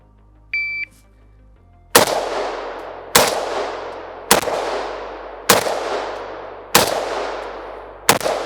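Six loud, sharp gunshots from a PSA GF-3 AK-47 rifle ring out at a steady pace of roughly one per second, each with a trailing echo, after a brief electronic beep at the start of a timed shooting run.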